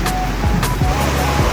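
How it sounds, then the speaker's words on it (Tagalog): Strong water current rushing through a drainage canal toward a river during rainy weather, a steady loud broadband roar of flowing water throughout. "ang lakas po ng agos"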